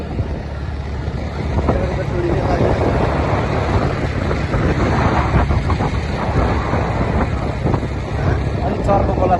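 Wind buffets a microphone outdoors on a hillside, giving a constant loud low rumble and roar through the whole stretch.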